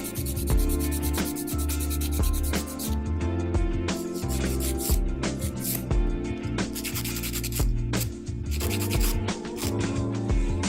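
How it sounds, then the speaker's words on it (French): A nail file rasps back and forth under a gel nail to remove excess gel, giving close, rapid, uneven scratchy strokes with brief pauses, and no voices. "n'oubliez pas de limer le dessous de l'ongle pour retirer l'excédent de gel"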